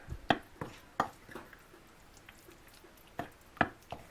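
Pumpkin cake batter is stirred with flour in a bowl, giving a series of soft, irregular wet thuds and squelches from a utensil, close and fairly quiet.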